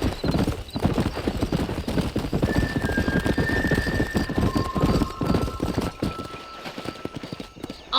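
Horse hoofbeats in Red Dead Redemption, a loud continuous clip-clop of a galloping mount with a brief whinny and faint tonal in-game sounds over the top, no voices.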